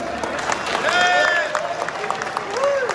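Scattered clapping and crowd noise from an audience at a vintage car law signing event, with voices and whoops rising over it, moderately loud and a little distant.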